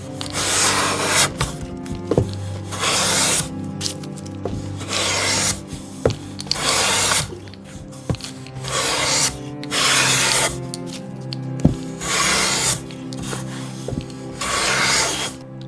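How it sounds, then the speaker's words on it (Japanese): Traditional Japanese hand plane (kanna) shaving a workpiece flat in a Tokyo woodworking shop: repeated loud rasping strokes about every two seconds, each a long hissing pull with brief pauses between, close and clear with no talk. "カンナで削って"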